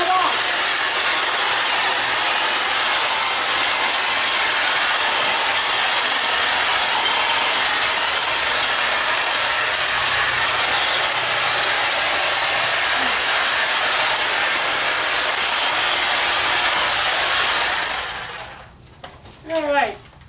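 Powered hedge trimmer cutting muscadine vines back to the shape of an arbor, a steady loud buzzing drone running continuously for most of the span before cutting off abruptly near the end.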